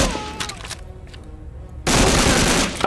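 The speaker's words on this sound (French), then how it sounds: "Ça tire des très gros obus." Very large shells fired in the war shooter Medal of Honor: Allied Assault, with scattered shots early on, then a heavy, sustained roar of loud artillery and gunfire that takes over for the last second.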